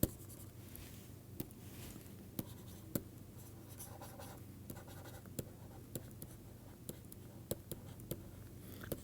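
Chalk or marker scratching and tapping on a board during a mathematics lecture, a steady stream of faint strokes punctuated by sharp taps over a low room hum, with no talking.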